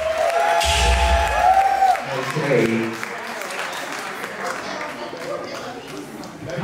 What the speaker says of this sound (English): give her a round of applause, y'all.